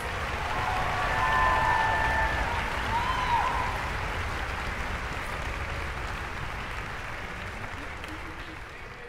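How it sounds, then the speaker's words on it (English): Sustained audience applause for a young performer at a Philadelphia high school music festival, a dense steady wash of clapping that swells early and slowly fades, with a brief voice or tone near the start. "Let's give one more round of applause for Chris."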